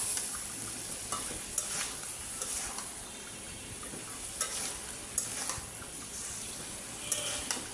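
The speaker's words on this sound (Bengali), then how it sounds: "আমার এই সবজিগুলো কষানি আসছে কিছু।" Vegetables with papaya sauté in a pan, a soft continuous sizzle broken by periodic spatula scrapes and taps against the metal, fairly quiet and close.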